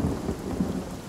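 A rain scroll in the video game Divinity Original Sin unleashes a steady dense wash of rain with a low rumbling thunder underneath, loud and continuous.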